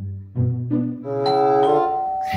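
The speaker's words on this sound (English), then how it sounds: "Where's the sound effect of the doorbell?" A doorbell sound effect chimes in several stacked, rising tones, each note ringing on and overlapping the last, loud and clean with no talk over it.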